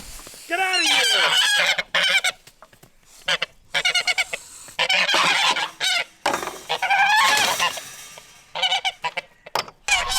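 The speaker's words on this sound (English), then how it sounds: "We got a bunch of chickens." Farm fowl, including a flock of chickens, call loudly and close in repeated bursts, with squawking, clucking and honk-like cries separated by short pauses.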